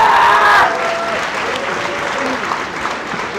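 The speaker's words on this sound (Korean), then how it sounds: "큰 박수 부탁드립니다." An arena crowd applauds after a professional boxing bout ends in a TKO, a loud burst of clapping that quickly settles into steady, fainter applause while an announcer speaks over it.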